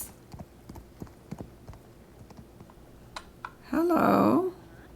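Horse hooves clip-clop in The Sims 4 on a horse ranch, a run of light rhythmic hoofbeats through the first few seconds before a loud tonal game sound swells near the end.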